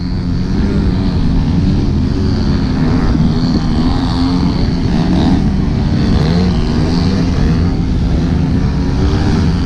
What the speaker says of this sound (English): There's a whole lot of thrust going on out there right now